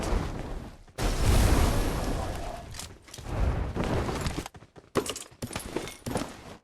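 PUBG Mobile battle royale combat: loud broadband gunfire and explosion bursts crowd the mix, a long heavy barrage followed by a brief lull and then sharper, choppier blasts.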